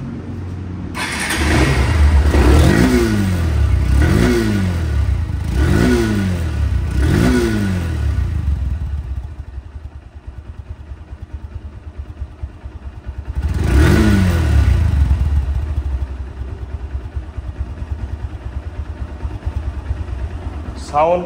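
A used motorcycle's engine starts and then revs in a run of short throttle blips, settles to a rough idle, revs again in one long surge and falls back to idle; loud and close, with no talk over it.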